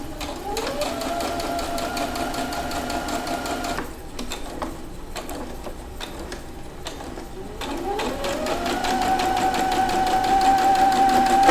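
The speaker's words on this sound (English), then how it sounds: "I'm just going to try to sew straightest line I possibly can." A sewing machine stitching a straight line runs at a steady, close buzzing hum, stops for a few seconds, then speeds back up and keeps stitching, growing slightly louder.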